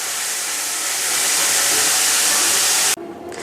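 Bitter gourd (karela) slices fry slowly in a pan with a loud, steady broadband sizzle that cuts off abruptly near the end.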